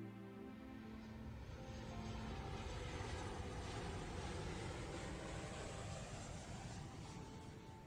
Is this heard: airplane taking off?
yes